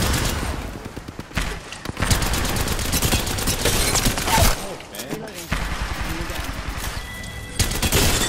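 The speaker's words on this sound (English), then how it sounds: "Opening fire." Sustained bursts of rapid gunfire in the battle royale video game Apex Legends, loud and close, with short gaps between volleys and voices talking over the action.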